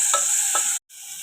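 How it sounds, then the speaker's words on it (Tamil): Steady sizzling of sliced tomatoes sautéing in a pan, with a couple of soft stirring scrapes, then a brief pause before the sizzle resumes. "நல்லா வதக்கிக்கோங்க."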